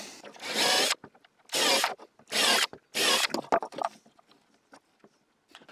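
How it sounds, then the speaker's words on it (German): A power drill boring pilot holes for screws in a homemade 90-degree marking jig: four loud, close, whining bursts of about half a second each, separated by short pauses, followed by light handling clatter. "dafür bohre ich jetzt gerade hier ein paar Löcher vor"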